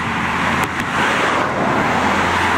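Steady stream of cars and road traffic rolling along a seaside roadway bridge in Japan, a continuous broadband roar with no voices.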